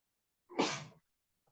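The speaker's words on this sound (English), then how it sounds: "sneezing" A single sharp sneeze bursts out at close range, a short explosive burst lasting about half a second, then quiet.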